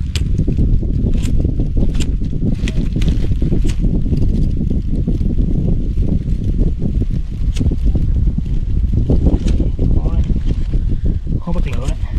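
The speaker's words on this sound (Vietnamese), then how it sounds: "Trời khá gió." Strong outdoor wind buffets the microphone with a constant heavy, low rumble while trash burns outside, and someone talks over the gusts.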